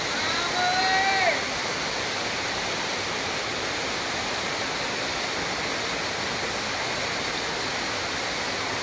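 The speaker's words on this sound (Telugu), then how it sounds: "బాబీజేరి వాటర్ ఫాల్స్." Steady, loud roar of Baabijhari waterfall at Kerameri filling the air close by, with a brief rising whistle or squeal near the start before the rushing water continues unchanged.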